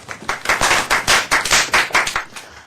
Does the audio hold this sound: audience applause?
yes